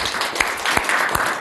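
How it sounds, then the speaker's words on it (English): An audience at an embassy reception applauds, giving a brief burst of dense, steady clapping from a crowd. "This is the man, a round of applause."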